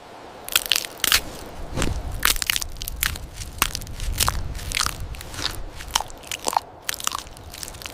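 Loud, repeated crunching and biting of tough forest food such as bark by a gorilla, with sharp cracking bites scattered over steady close-up chewing and crackling, no voices.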